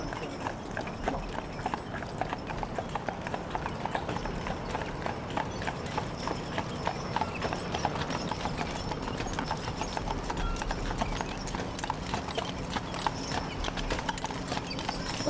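Continuous clip-clop of a team of horses' hooves at a steady walking rhythm, close and even, with a faint background rumble throughout.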